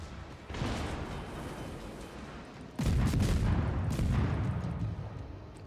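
Naval gunfire in World of Warships rumbles through as a sustained, muffled roar of battle, swelling into a heavier boom partway through and then staying dense and noisy without any speech.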